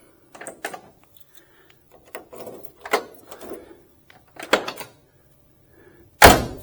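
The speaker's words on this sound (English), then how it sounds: "Door locks." Door locks on a 1967 Camaro RS SS click and clunk in a few short, separate bursts, ending with one loud, sharp snap close by.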